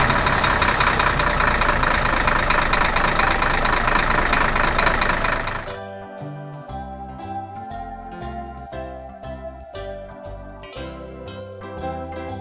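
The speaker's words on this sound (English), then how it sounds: "Pickup truck." A pickup truck engine runs loud and steady for about five seconds with a dense, rumbling roar, then cuts off and gives way to music.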